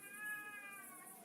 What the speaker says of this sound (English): It's the cats meowing when you see cats at night.